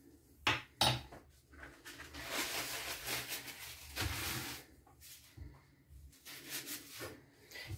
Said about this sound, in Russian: И перемешиваем наш салат.